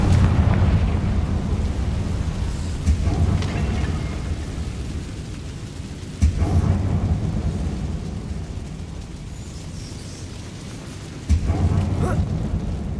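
Confringo spell blasts go off in Hogwarts Legacy as sharp bursts spaced several seconds apart. Each one is heavy and rumbling and lands over a constant low game background drone.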